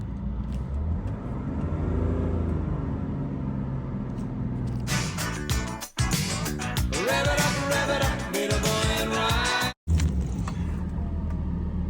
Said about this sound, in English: now, to start the vehicle up and fast idle it for about 10 minutes